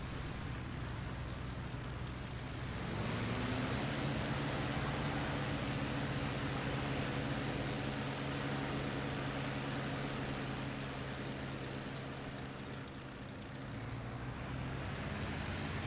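Steady drone of a Bf109F-2 fighter's aircraft engine in a flight combat video game, a continuous loud hum that rises in pitch and intensity after the first few seconds and holds throughout, with no speech.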